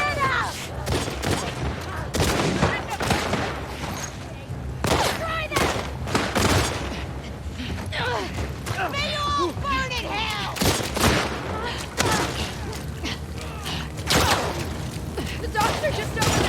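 Rifle gunfire in The Last of Us Part II video game, repeated loud shots and bursts with booming impacts scattered through the passage, while a person talks over much of it.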